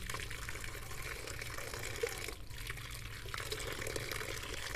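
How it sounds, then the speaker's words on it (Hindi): Black plums (jamun) being washed in water, giving a steady, fairly loud wash of splashing and running water that continues without a break and with no talking. "जामुन जो है इनको अच्छे से धोना है"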